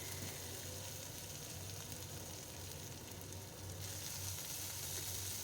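Crushed ginger, garlic and chili fry in hot oil with a steady, dense sizzle that holds near and loud throughout, with no talking.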